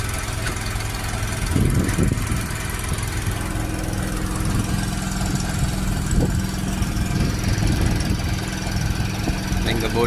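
A small boat's engine runs steadily at a departure from Payung island toward Pari island in Indonesia, a loud, continuous mid-pitched drone with a rhythmic knock throughout and voices briefly heard over it.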